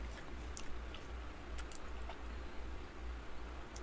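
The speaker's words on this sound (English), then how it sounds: "So I beg your pardon if I'm gonna munch," Snack food munched close to the mic during an anime episode, with quick crisp crunches and wet chewing ticks over steady background noise from the show, no clear talking.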